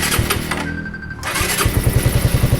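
Rider 150 motorcycle with a weak battery struggling to start: a labored cranking attempt, a brief pause, then the engine catches into a rapid, loud, pulsing putter close by.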